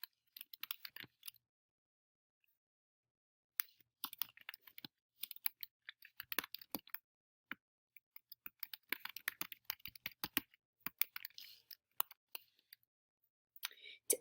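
Keystrokes on a computer keyboard tapping out answer options for a multiple-choice question in Google Forms, quiet, crisp clicks in irregular bursts with a pause early on, no talking.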